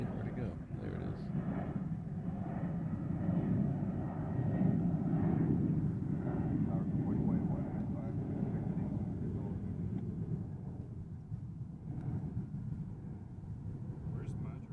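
Airplane on the Majuro flight at Honolulu airport, a broad low jet roar that holds steady and swells slightly before easing, heard from a distance with someone talking over it.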